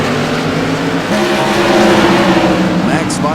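A Chevrolet-powered CRA modified race car roars around Martinsville Speedway, a loud, continuous engine drone under trackside crowd and PA noise, with a brief higher tire or engine whine near the end.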